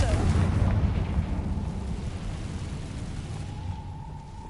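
A Confringo fire spell explosion in the video game Hogwarts Legacy, played on PS5. It lands as a loud, low rumbling burst at the start, then a long crackling decay with a thin tonal hum rising near the end.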